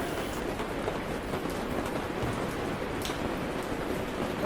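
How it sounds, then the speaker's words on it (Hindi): Heavy rain and strong wind in an outdoor storm, a dense, continuous broadband hiss and patter that stays steady and fairly loud throughout, with no voices. "बहुत जोर से हवा और बारिश आ रही है।"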